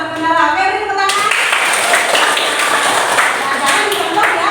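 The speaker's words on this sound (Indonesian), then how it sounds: "beri tepuk tangan" A classroom of students clapping their hands together, a dense burst of applause starting abruptly after a teacher's voice and continuing steadily, loud and close, with the teacher still talking over it.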